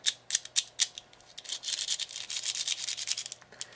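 A Quad Cube puzzle turns with quick, close plastic clicks and scrapes, first a few separate twists and then a rapid, continuous run of rasping turns.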